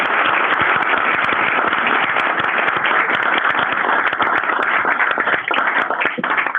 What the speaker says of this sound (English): let's give one final round of applause for all of our music students today